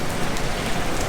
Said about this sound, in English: This weather is relentless. It just has not stopped raining.